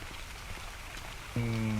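Rain falls in the video game ARK Survival Evolved as a steady, moderate patter. Near the end, a loud, sustained droning tone cuts in over it.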